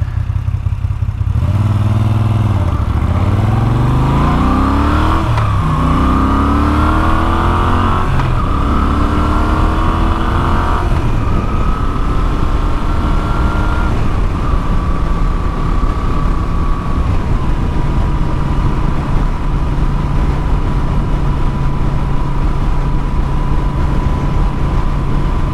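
A Moto Guzzi V7 850 motorcycle rides through city streets. The engine pulls loud and close through rising gear changes, then settles into a steady cruising drone under wind noise.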